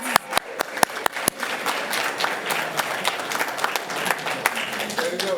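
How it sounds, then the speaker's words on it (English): Audience applause fills a school board meeting honoring athletes and coaches, opening with several sharp separate claps before settling into steady, moderately loud clapping from a crowd, with a little talk faintly underneath. "Another round of applause."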